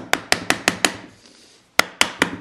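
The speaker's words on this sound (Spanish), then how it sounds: "sigo sin tener el martillo adecuado, pero bueno, esto es de goma también." A hard rubber mallet taps sharply on an engine part during a Start 5 engine tuning job, striking a fast, even series of five close knocks, then a pause and three more.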